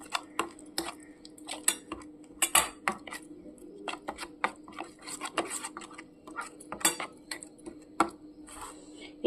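Eggs being mixed with spices and a little sugar in a pan: a spoon or spatula clinks and scrapes against the metal in irregular close taps and knocks throughout, with no voices.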